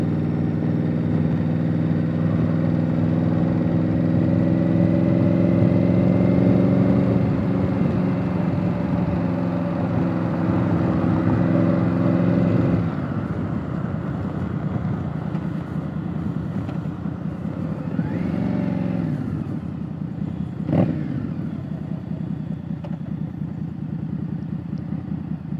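An Indian Scout Bobber Twenty motorcycle rides along with a steady, close engine drone that holds loud and throaty, then eases to a lower, rougher tone as the rider lets off, with wind rush throughout.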